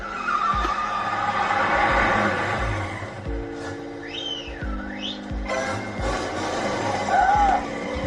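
A car skids at speed in a film clip, with tires squealing and engine noise over dramatic music and effects, loud and close with several sliding sweeps across the passage.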